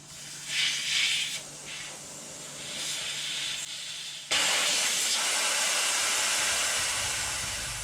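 Air hisses steadily out of a truck tire on a 2017 Duramax after the valve core is pulled, a loud, continuous rush that surges abruptly partway through and holds strong to the end, with no talking.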